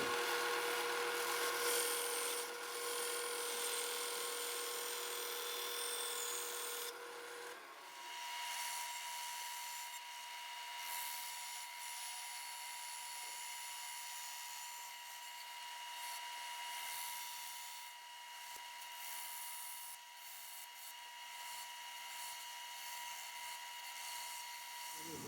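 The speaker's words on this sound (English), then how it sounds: "this is an old bandsaw, a wood cutting blade in there, and that'll rip through aluminum pretty well" An old bandsaw fitted with a wood-cutting blade and lubricated with wax rips through aluminum with a loud, continuous, harsh grinding whine. The tone shifts and thins partway through, then holds steady for the rest of the cut.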